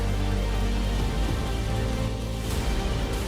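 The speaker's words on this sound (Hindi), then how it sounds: "गाजियाबाद, नोएडा, मेरठ, मुरादाबाद में तेज हवाओं के साथ बारिश हुई" Heavy rain with strong winds in a storm over towns in western Uttar Pradesh, a steady dense wash of rainfall and gusting air filling the whole stretch without pause.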